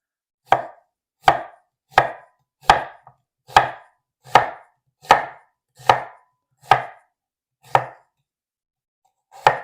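A knife chops onions on a cutting board for French onion soup, with eleven crisp, evenly spaced strokes close up and silence between them.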